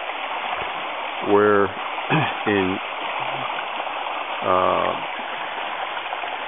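Water flows steadily through a homemade helical spiral water pump that separates trapped air from the water and feeds a 5/8-inch hose, a constant rushing hiss heard beneath a man's short spoken phrases.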